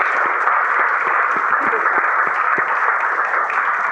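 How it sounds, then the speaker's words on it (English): Sustained audience applause at a community event, a dense steady wash of many hands clapping throughout without a break, fairly loud and close. "another round of applause"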